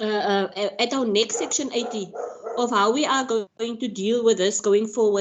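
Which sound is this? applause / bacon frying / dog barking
dog barking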